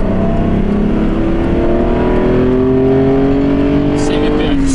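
A Mercedes with a V12 engine, rated at 400 horsepower, accelerates hard at full throttle from inside the car, its engine note rising steadily in pitch through the gears at high volume.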